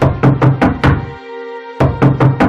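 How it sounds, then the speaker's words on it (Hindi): Knocking on a door for a horror story: a quick run of five or six sharp, loud raps, a short ringing pause, then another burst of four or five knocks, close and alone. "इस बार मैंने दरवाजे पर दस्तक देना शुरू किया"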